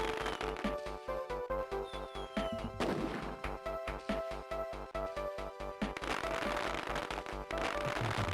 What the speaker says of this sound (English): The credit scene here is nice. I like the fireworks.